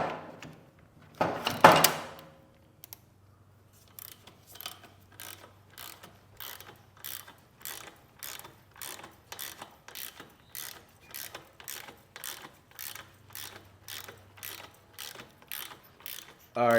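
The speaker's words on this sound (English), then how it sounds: "let me get my ratchet and see if we can get this thing up in here" A hand ratchet tightens a part while fitting a Cycle-Rama 485 exhaust with a D&D billet cat onto a 2022 Harley-Davidson Road Glide ST: a long steady run of close, crisp clicks at a regular rhythm, after a brief louder clunk near the start.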